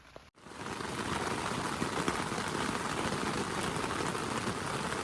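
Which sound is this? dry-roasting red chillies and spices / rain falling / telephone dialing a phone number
rain falling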